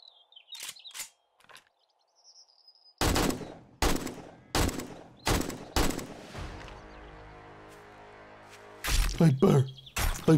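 Gunfire in 7 Days to Die during a bear fight: several loud separate shots in a rough rhythm, each ringing off with a long echoing tail, then a fast closing burst near the end.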